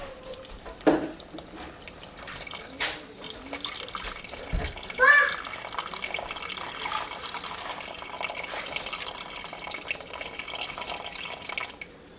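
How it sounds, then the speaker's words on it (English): Warm filtered water poured into all-purpose flour in a bowl for sourdough, a soft running splash with a few drips and clinks close by, steady and fairly quiet throughout. "Just gonna pour in the water."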